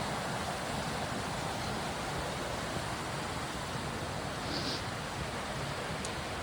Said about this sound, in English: It's a mini waterfall of sorts.